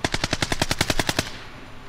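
Rapid automatic gunfire in Call of Duty: Black Ops Cold War, about a dozen evenly spaced shots in a quick burst lasting just over a second, then a fading echoing tail.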